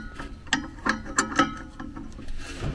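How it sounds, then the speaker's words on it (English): A set screw being tightened on a variable speed ECM blower motor, giving a series of close metallic ratcheting clicks and ticks in an uneven rhythm over a low background hum. "A little more torque on that set screw."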